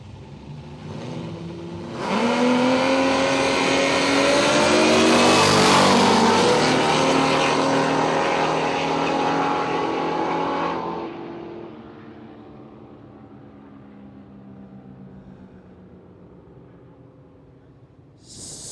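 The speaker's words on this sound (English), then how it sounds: "This one has the supercharged 6-cylinder on board." Supercharged six-cylinder LC Torana at a drag strip, roaring loud for about ten seconds as the engine revs hard and climbs, then fading into a lower, more distant drone, with a faint voice near the end.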